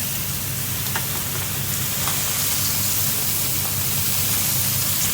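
Continuous hissing sizzle of lemon juice spattering onto king prawns in a hot pan, steady and fairly loud throughout with no talk.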